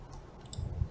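A couple of quick, faint clicks, like a computer mouse button being pressed, over a quiet room background.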